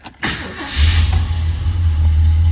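A 1966 Ford Galaxie convertible with a 7.0-litre 428 V8 starts: a brief crank, then the engine catches and settles into a loud, deep, rumbling idle that continues steadily to the end.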